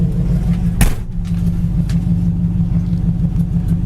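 A 1958 Ford F100 truck engine idles with a low, steady, close rumble, broken by a single brief click early on.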